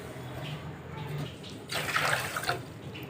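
Water is poured from a bowl onto sugar for apple murabba, a short splashing rush that starts after a quiet kitchen moment and lasts under a second.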